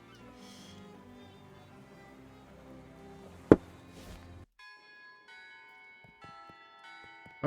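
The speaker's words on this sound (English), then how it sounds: "You hear the ringing of cathedral bells and turn to see their source." Cathedral bells chime in the Shadows Over Loathing video game, playing a simple tune as a series of bright ringing tones over a dense musical background, with one loud sharp strike near the middle and sparser tones later.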